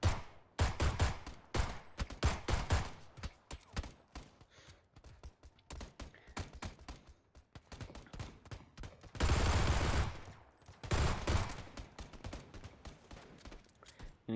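Gunfire rattles in PUBG Battlegrounds as sharp shots in quick irregular bursts and single cracks, with a louder, denser volley near the end and quieter gaps between.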